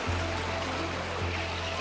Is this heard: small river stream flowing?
yes